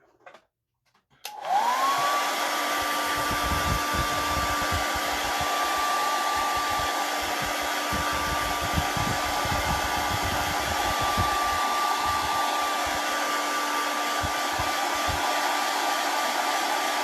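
A hair dryer blowing on peanuts switches on after about a second and then runs at a steady, loud whine with a constant hum for the rest of the clip, alone and without talk.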